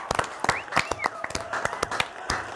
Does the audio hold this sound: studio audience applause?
yes